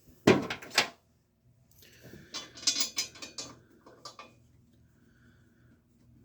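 Header bolts being fitted and tightened on a 1966 Chevrolet C10 engine during an LS swap, sharp metallic clanks up close followed by lighter ratcheting clicks and taps.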